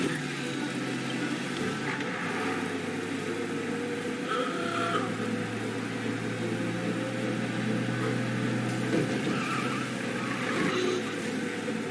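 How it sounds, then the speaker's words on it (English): Cars speed through a police chase in the video game Mafia Definitive Edition, a steady, unbroken engine drone holding at constant loudness for the whole stretch, with no voices over it. "You lose them by driving real fast and getting clear of them."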